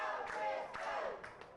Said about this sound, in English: the crowd solidly chanting for Chris Kilgore